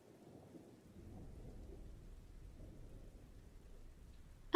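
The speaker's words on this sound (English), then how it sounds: "okay, I heard the rain then." Rain with low rumbling thunder plays faintly in a rainy city room of a video game, a soft, steady wash and low rumble that continues unbroken until a brief sharp click at the end.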